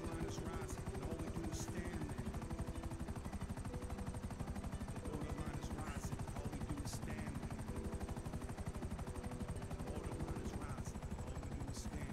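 Valkyrie military helicopter in the video game GTA, a steady rotor thrum throughout, with faint bursts resembling distant gunfire and a voice speaking now and then over the game sound.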